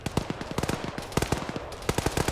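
Rapid bursts of automatic gunfire from a military shooter video game, sharp repeated cracks in quick rhythmic strings, loud and close with brief gaps.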